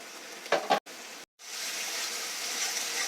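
Onions frying in a pan give a close, steady sizzle, broken early by a couple of brief stirring scrapes and short gaps, then settling into continuous hissing with no talk.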